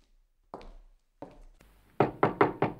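Knocking on a door in an Italian detective audio drama: a single knock, then a softer one, followed by a quick series of four firm, close raps, with no talk.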